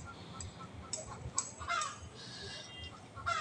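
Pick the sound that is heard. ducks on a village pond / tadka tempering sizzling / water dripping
ducks on a village pond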